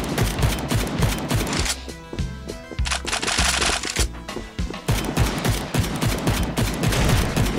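Rapid gunfire while shooting zombies in a video game, with dense bursts of shots that come in waves, briefly thin out, then return loud and relentless.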